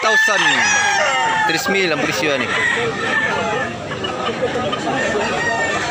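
Roosters and chickens at a market crow loudly and repeatedly, overlapping one another with clucking beneath, while people haggle over prices in the background.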